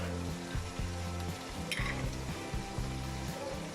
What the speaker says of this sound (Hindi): तो अब इसको मसाले के साथ अच्छी तरह से फिर से भूनें